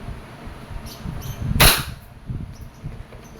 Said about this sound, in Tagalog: This is your Wingun 708 revolver, CO2 powered airsoft revolver.